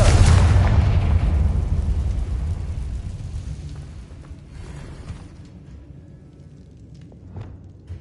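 A loud Confringo spell explosion in Hogwarts Legacy, a heavy booming blast that hits at once and then rumbles and decays slowly over several seconds, with faint debris and small noises trailing at the end.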